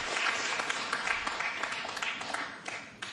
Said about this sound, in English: That brings a smattering of applause.